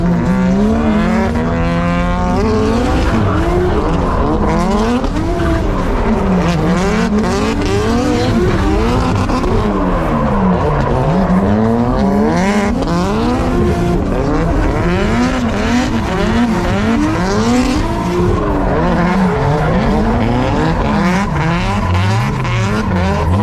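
A Nissan R34 Skyline drifts at a drift day event, its engine howling and bouncing through rapid rev swings with tyre squeal mixed in, loud and close throughout with no break.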